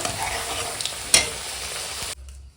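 Potatoes frying in hot oil in a home kitchen, a close, steady sizzle with a sharp clatter partway through before cutting off abruptly.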